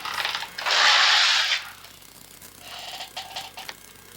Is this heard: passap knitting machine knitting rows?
yes